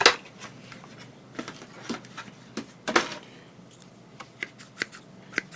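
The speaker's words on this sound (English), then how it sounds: "Yeah, scissors for photo etch parts" Small photo-etch scissors snip and click as they are tried out at a model-building bench, giving a string of sharp, irregular close snips with short pauses between them.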